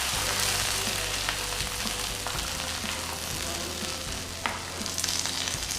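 Fried cashews and raisins are poured into a Kerala chicken stew and stirred, giving a steady soft sizzle with a few light clinks and scrapes of a spoon, no talking.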